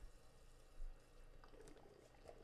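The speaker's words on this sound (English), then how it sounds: "I'm going to add a little bit of distilled water here" Distilled water is poured in a thin, quiet trickle into a silver refining cell, a faint liquid splash and dribble heard close by with no talking.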